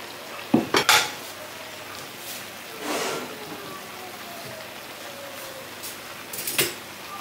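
Cooked vegetables scraped out of a pan with a metal utensil before meat goes in, giving a few sharp clanks and scrapes up close, separated by quieter stretches of faint sizzling.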